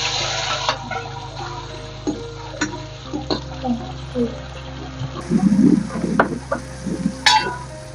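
Cauliflower florets drop into hot oil in a home kitchen pan, setting off a patchy sizzle that swells toward the end amid stirring clinks and scrapes.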